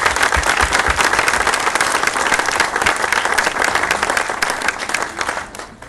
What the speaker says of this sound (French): je voudrais, mesdames et messieurs, que vous applaudissiez très fort monsieur le maire de Salazie